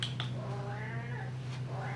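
A cat gives a drawn-out meow up close, followed by the start of another, over a low steady hum.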